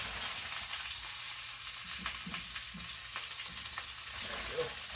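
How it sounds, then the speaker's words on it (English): Carrots and other vegetables cooking in a sausage and meatball skillet give a steady, moderate frying sizzle with a few soft stirring scrapes, and no talking. "So we have some little bit more veggies in our skillet we're working on."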